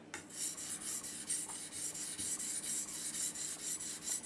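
A knife blade is drawn across a sharpening stone in close, rhythmic grinding strokes, about a dozen regular rasping passes in quick succession, heard alone without talk.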